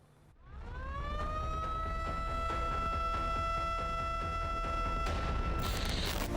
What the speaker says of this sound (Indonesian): Sirene yang Anda dengar bukanlah sirine tanda bahaya. Ini adalah penanda untuk waktu menyiram bibit sayuran.